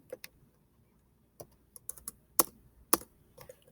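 Sparse keystrokes on a computer keyboard in a quiet room, a few soft taps followed by a pair of sharper, louder clicks spaced about half a second apart.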